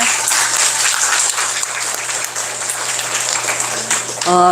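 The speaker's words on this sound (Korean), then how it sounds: "큰 박수 제가 보냅니다" Church summer gathering audience applauding loudly and steadily after a talk, a dense continuous clapping that swells again at the end, with a voice briefly heard at the close.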